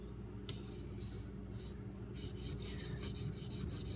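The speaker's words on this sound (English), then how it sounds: "So I'm going to go ahead and make sure on this stone I can develop a burr." Knife blade strokes on an Edge Pro sharpening stone while raising a burr on a Kershaw Oso Sweet, a dry rasping scrape repeating in short passes, growing steadier and louder toward the end over a low background hum.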